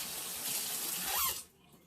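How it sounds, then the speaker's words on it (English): Warm tap water runs steadily into a sink while a baby chick with pasty butt is washed, the stream hissing close by before cutting off abruptly, with a faint squeak near the end. "I may have to run her bottom under the warm water and try to get this off."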